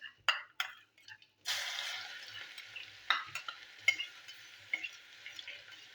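Crushed garlic and dried red chili with black cumin frying in hot oil, a steady sizzle broken by several sharp stirring scrapes and clinks of a spoon against the pan, close by with no talking.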